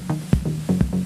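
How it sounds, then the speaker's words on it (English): Electronic polyrhythm with seven pulses set against eight, built from repeating synthetic percussive hits whose accents drift around a bass drum in a short looping pattern. "start to go into polyrhythms where the rhythmic track is going to wrap around the bass drum"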